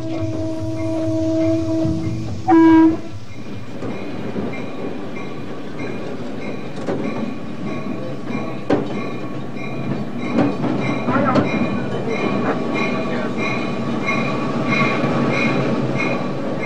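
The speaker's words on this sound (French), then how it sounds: "conduit le train." A train rolls along tracks in Mexico with a steady rumble and clatter of wheels, after a brief sharp horn-like tone near the start, and the sound stays loud and close.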